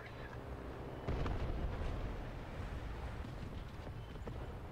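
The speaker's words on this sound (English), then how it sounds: "The bomb was dropped right in front of me." In War Thunder, a bomb lands just in front of a tank, producing a sudden deep rumbling blast that swells abruptly and then settles into a sustained, fairly muffled roar.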